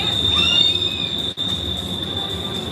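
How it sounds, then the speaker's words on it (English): A train rolling past beside the river in Pittsburgh gives a continuous high metallic wheel squeal over a low rumble, fairly close and steady for the whole stretch. "Another train coming through."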